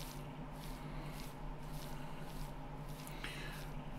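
Water sloshing and swirling in a gold pan in the Gold Rush video game, a steady, dense wet washing noise that runs continuously throughout at moderate level, with no talk.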